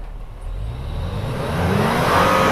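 A Toyota truck on Toyo RT Trail tires pulling away on a snowy downhill trail, engine note rising steadily as it accelerates, loud and close with a growing whir of tires, no voices.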